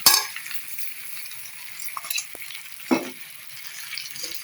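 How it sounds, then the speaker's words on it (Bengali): Spoon stirring sour, spicy and sweet pickle in a pan as jaggery and sugar melt, a soft sizzle underneath with a few scrapes and light clinks against the pan, close and unhurried, no talking. "আমি এখন এটাকে আস্তে আস্তে নেড়ে নেড়ে করতে থাকবো"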